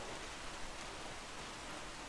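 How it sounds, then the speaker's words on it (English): Steady broadband hiss of rain falling during an outdoor airsoft game, continuous and even for the whole stretch with no voices. "It's been raining non-stop for like the past 3 ops"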